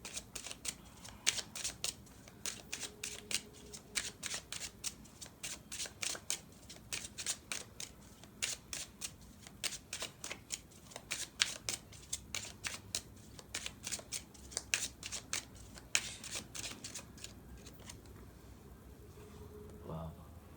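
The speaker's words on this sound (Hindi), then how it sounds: "थोड़े से आपके कार्ड थोड़े शफल कर लेते हैं" Tarot cards being shuffled by hand, a steady run of quick crisp riffling and flicking bursts through most of the stretch, close and fairly soft, with faint voice now and then underneath.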